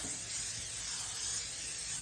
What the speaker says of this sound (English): with some cooking spray